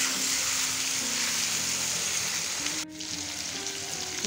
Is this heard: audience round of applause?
no